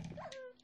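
A dog in Minecraft on Xbox 360 gives a short, high whimper with a couple of brief yips, close and fairly quiet, lasting under a second.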